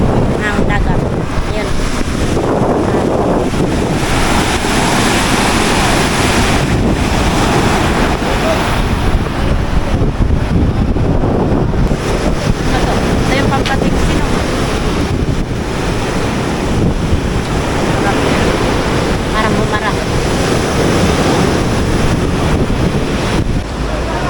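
Strong ocean surf crashes at the shore under steady gusting wind, a loud, continuous roar with no pauses, where a heavy wooden boat is being hauled up onto the beach away from the force of the waves.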